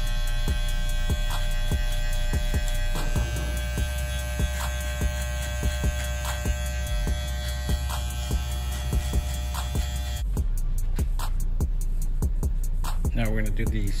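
Walmart home hair clippers or trimmers run with a loud, constant electric buzz and mains hum while edging up a haircut; the drone carries on throughout with small cutting ticks, close to the mic, then shifts near the end.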